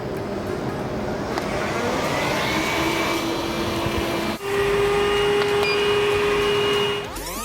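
A CleanBot Ultraspray 2.0 window cleaning robot runs on a dirty window, a steady loud motor and suction whine with shifting tonal hums, a brief dip midway, then a clunk near the end.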